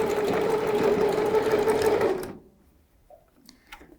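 A sewing machine stitches the waistband of a children's unisex jumpsuit in one close, loud, steady run of fast needle chatter, then stops abruptly, leaving near silence with a few faint handling clicks.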